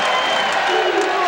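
A basketball crowd roars and applauds in an arena during an Indiana vs Notre Dame college game in 1991, a steady, loud wash of cheering with a commentator talking over it.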